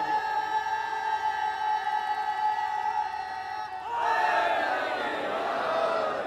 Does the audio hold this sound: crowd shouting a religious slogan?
yes